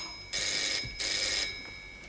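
A telephone bell rings in two loud, bright bursts of about half a second each, separated by a short pause, with no voices over it.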